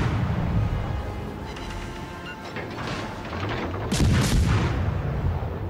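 A Benham Tier VI destroyer's guns fire in World of Warships Legends, with dense, continuous booming salvos and rumbling blasts, and a louder burst of shots near the end.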